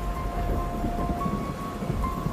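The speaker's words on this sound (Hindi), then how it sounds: "तेज बारिश और तूफान ने उन्हें आ घेरा" Heavy rain pours in a thunderstorm, a steady dense hiss with low rumbling thunder rolling underneath, continuous and fairly even throughout with no voices.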